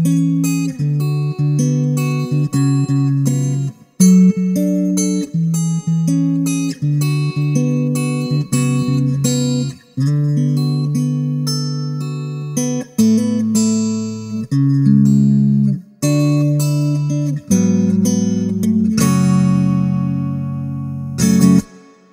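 An electric guitar run through a Hotone Ampero II Stomp acoustic simulation plays a well-known song, strummed and picked chords ringing bright and close, with short pauses between phrases and a brief stop near the end, no voices.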